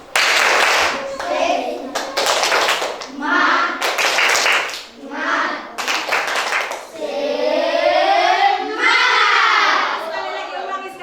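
A primary-school class in Indonesia does a rhythmic spirit clap led by a pupil, mixing patterned bursts of clapping with loud chanted children's voices in a lively call-and-response pattern.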